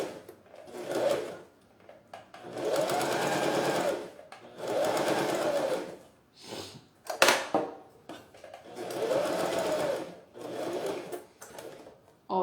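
A sewing machine stitches a zipper onto synthetic fabric for a handbag in repeated runs of rapid, close mechanical chatter, separated by short pauses and small handling clicks as the work is turned.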